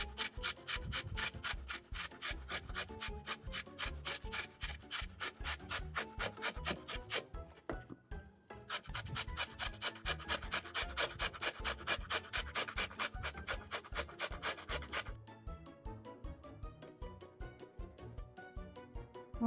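Beetroot is grated by hand, shown sped up in the making of a tender homemade chicken sausage: a rapid, steady rasping scrape repeating in quick strokes with one brief pause partway through, loud and close, with no talking.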